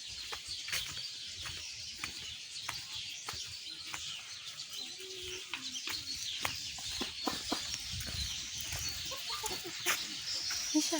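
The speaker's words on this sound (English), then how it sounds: "I want to show you the chicken that actually lay eggs and the one that incubates the eggs." Chickens cluck and call around a smart chick farm in an African village, with short repeated clucks and chirps over a steady outdoor background, close to moderately near, no talk.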